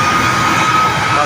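A large Philippine Airlines airplane at an airport gives off a loud, steady engine roar and whine, close by and continuous through the brief moment.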